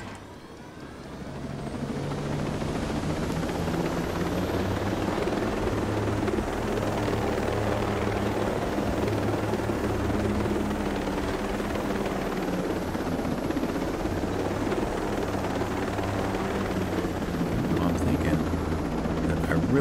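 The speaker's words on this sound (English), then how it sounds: "Okay, I'm gonna take the fresh helicopter." An unarmed helicopter in the video game Ghost Recon Breakpoint whirs with a loud, steady rotor and engine drone that holds for the whole stretch, close and constant, with no speech.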